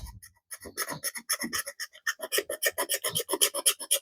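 Fire steel from a Mossy Oak three-piece fire kit scraped with a striker to throw sparks: a fast, steady series of harsh rasping strokes, close and fairly loud, with no voices.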